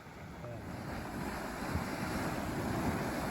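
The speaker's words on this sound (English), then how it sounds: "There's actually just bubbles coming up from this lake." Gas bubbles surge up through the churning hot spring water of Black Dragon's Cauldron in Yellowstone, a steady, surf-like rushing wash that swells slightly louder over time, with wind noise on the microphone.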